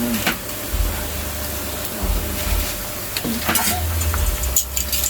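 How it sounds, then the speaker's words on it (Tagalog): Lechon paksiw is stirred in a pan with a ladle, making a steady low sizzle broken by repeated scraping and clinking strokes at close range, with no voices. "haluin lang natin Eli hanggang magdurog yung ano natin"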